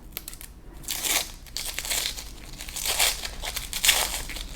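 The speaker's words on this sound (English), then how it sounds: "And then we'll take our onion, just cut the cap off it. Give it a nice little peel." Dry papery skin crinkles and tears as a sweet onion is peeled by hand in a kitchen. The rustles come close and fairly loud in uneven bursts, with no talk over them.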